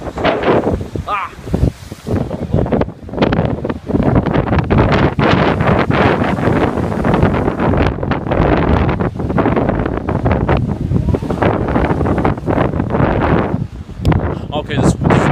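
Strong, steady wind buffets the microphone at a beach with approaching waves, a constant loud roar with surf mixed underneath and brief bursts of voices.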